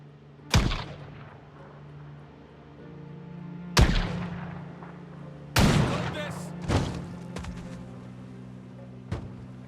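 Sharp, heavy gunshots from an enemy with a gun in Project Zomboid ring out one at a time with long gaps, four loud reports followed by a fainter one, each trailing off into a low hum under occasional speech.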